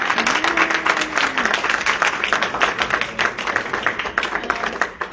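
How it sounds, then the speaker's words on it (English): Audience applause for a panel at a state capitol, a crowd clapping steadily and fairly close, with a voice briefly audible at the start. "If we could just give a round of applause for our panel."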